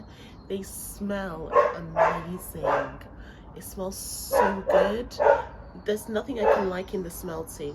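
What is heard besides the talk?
dog barking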